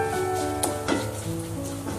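Beetroot and dates pickle sizzling in a hot pan while being stirred, a soft continuous crackle with a few clinks of the spoon against the pan over a steady hum.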